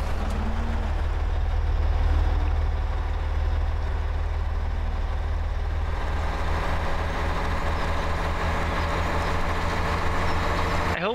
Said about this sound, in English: I hope this tractor will do the job.